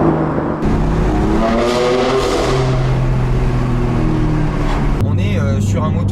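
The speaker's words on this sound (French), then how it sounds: "Le N55 qu'il y a dans cette M2 sonne beaucoup plus musical qu'un S55" Exhaust note of a 2018 BMW M2 M Performance with the N55 straight-six, a steady, loud engine drone with shifting harmonics as it revs, close and continuous, with a brief change in tone near the end.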